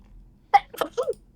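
One close, sharp sneeze bursts out, followed by a couple of softer breathy vocal sounds in an otherwise quiet room.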